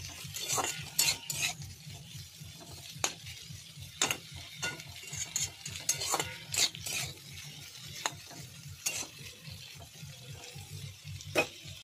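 Onion and capsicum for chilli chicken are stirred in a pan, a soft low sizzle under regular scraping and clinking strokes of a utensil, quiet and close, with no speech.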